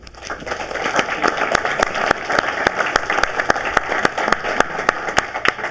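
Real estate seminar audience clapping: a sustained wash of applause with sharper individual claps standing out at irregular moments, fairly close and even in level.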